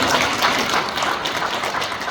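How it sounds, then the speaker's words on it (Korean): A church congregation claps together during a World Day of Prayer worship service, a steady, dense wash of applause filling the room for a couple of seconds with no voices over it. "다 함께 박수로 화답하겠습니다."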